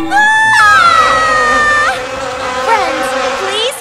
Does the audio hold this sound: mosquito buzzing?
yes